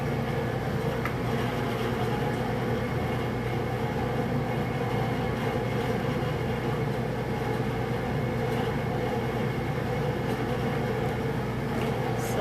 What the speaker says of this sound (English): If you hear that noise in the background, it's actually our chiller.